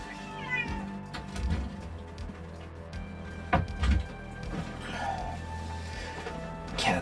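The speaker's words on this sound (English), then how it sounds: "Come on, cat." An indoor cat lets out repeated short meows close by, scattered over several seconds against a humming background, with a few soft knocks between cries.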